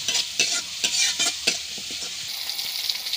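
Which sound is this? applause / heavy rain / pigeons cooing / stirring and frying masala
stirring and frying masala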